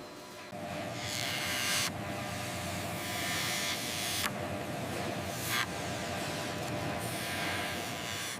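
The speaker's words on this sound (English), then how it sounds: "Skiving gallet, thinning the leather edges to half thickness so overlapping seams lie perfectly flat." A leather skiving machine in a large shoe factory thins the edges of shoe leather, giving a steady loud mechanical whir and buzz with brief surges as each piece passes through, continuous and close.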